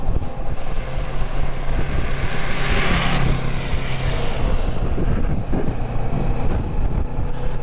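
Wind roars loudly over a Kawasaki Versys 650 motorcycle on a cold ride, with a low engine drone beneath a constant rushing buffet and no break throughout.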